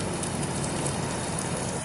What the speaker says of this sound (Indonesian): Pinger, di luar hujan